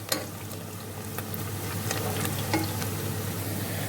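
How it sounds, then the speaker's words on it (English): Onions fry in a pot, giving a close, continuous crackling sizzle under a steady low hum. Faint taps and scrapes of a spoon stirring come through now and then, and nobody speaks. "The onion is getting brown,"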